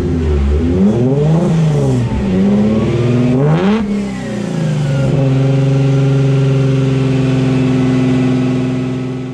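A Nissan 350Z engine revs up and down several times with rising and falling pitch, then settles into a steady, loud idle close by, with no talking.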